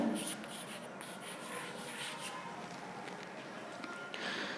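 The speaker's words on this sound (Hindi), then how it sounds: "तो हम लोग सेकेंड के लिए लिखते हैं सेकेंड" Chalk or marker scratches across a board in short strokes during a physics lesson, faint and close, with a few light taps and a soft rubbing texture running throughout.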